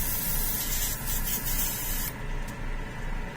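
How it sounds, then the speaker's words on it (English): Spray gun emptying leftover orange paint, a steady close hiss with a few brief bursts before the spray stops abruptly. "I'm just going to leave whatever orange I have in here, and I'll spray it out."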